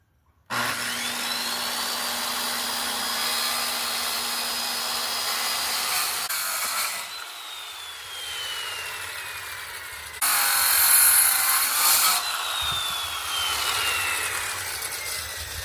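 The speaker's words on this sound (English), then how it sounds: "and then use our skill saw to zip it off." A skill saw rips through a walnut board for a rustic mantel, two sustained whining cuts with a steady motor drone, the second starting louder after a short pause, close and alone with no talk.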